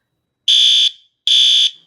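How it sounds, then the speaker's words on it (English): An Arduino rain sensor circuit alarm sounds two loud, steady electronic tones, each lasting about half a second with a short gap between them, ringing alone with no voices. "Very impressive, the alarm turned on immediately"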